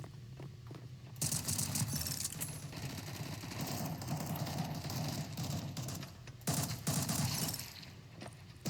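Gunfire crackles in rapid, dense volleys, loud and close, with a heavy burst near the start and another surge toward the end.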